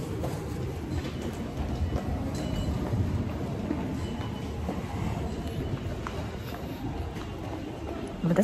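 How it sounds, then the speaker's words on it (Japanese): A subway train runs with a loud, steady rumble and rattle of wheels on track, heard from inside the carriage, continuous throughout with slight swells. "地下鉄"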